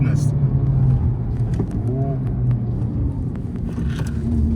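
Honda Civic Type R FL5 hot hatch engine revving hard while being driven, a steady close rumble running beneath continuous talking from inside the cabin.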